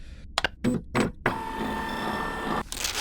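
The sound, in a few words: printer printing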